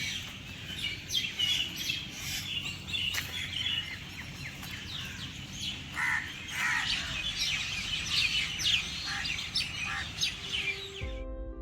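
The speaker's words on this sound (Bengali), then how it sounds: "তো পাখি ডাকছে" Birds chirping and calling at dawn near the beach at Gopalpur, Odisha, many overlapping bright tweets over a steady low background hum, continuous throughout with no talking, ending abruptly.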